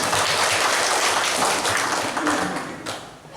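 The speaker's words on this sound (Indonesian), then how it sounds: "Tepuk tangan buat Bapak Ibu guru semua." Applause for the teachers at a school gathering: a dense burst of many hands clapping at once, loud and sustained, then gradually thinning and fading toward the end.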